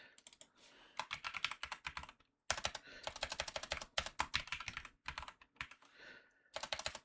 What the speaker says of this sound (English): Wow. Typing.